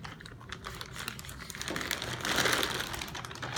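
Plastic baggie being sealed by hand at a bench, quiet close crinkling and a series of small clicking presses along the zipper, growing into a louder rustle toward the end.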